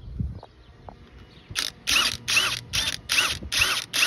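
A tool drawing a replacement wheel stud into the hub of a 1952 Chevy, heard as a steady series of about six sharp ratcheting clicks at an even pace, close and clear after a quiet start.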